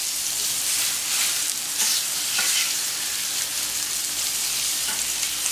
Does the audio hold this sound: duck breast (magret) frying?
yes